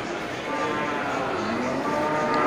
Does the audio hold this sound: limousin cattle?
yes